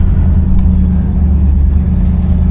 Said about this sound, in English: Give her a little bit of gas.